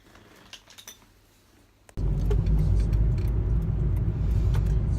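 A car starts up and drives on the way to a Christmas Eve party: a few soft clicks and jingles, then the engine and road noise rise to a steady, loud interior rumble.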